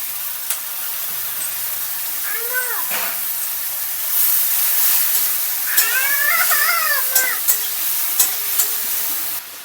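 Tomatoes fry in a pan for an egg curry, giving a steady close sizzle throughout. Several high, wavering cries and sharp clicks ring out above it.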